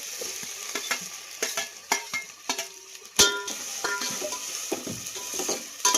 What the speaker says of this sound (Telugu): టమాటాలు కూడా వేసి ఇంకా అల్లం వెల్లుల్లి పేస్ట్ కూడా ఫ్రై అవుతాను కదా, ఇంకా టమాటాలు కూడా వేసేస్తాను.